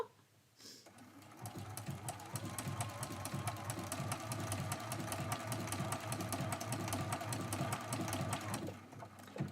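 A sewing machine stitches a tiny blanket stitch on quilt appliqué, a quick, even mechanical chatter that runs steadily for several seconds, close and clear, then stops.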